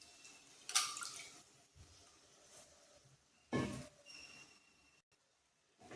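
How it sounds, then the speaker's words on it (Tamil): Chopped, washed drumstick (moringa) leaves are squeezed by hand, giving a couple of brief wet squishes and splashes of dripping water in a quiet kitchen, with no talking. "முருங்கைக்கீரை நறுக்கிட்டு கழுவி வச்சுருக்கேன், அதையும் தண்ணியை புழிஞ்சிட்டு சேர்த்துக்குவோம்."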